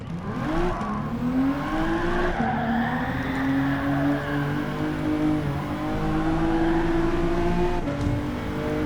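A car in Gran Turismo 7, driven from the cockpit in VR, holds a steady engine drone with rising and falling pitch as it accelerates, while tire squeal and skidding run continuously beneath, loud and close throughout.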